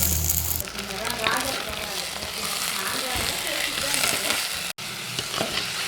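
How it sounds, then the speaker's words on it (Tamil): Chicken bones sautéing in hot oil in a pan, a steady close sizzle and frying crackle with stirring, continuing throughout with a brief break near the end. "அந்த எண்ணெயிலே போட்டு நல்லா வதக்குறாங்க"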